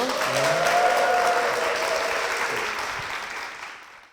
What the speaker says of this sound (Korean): 박수 받아주십시오.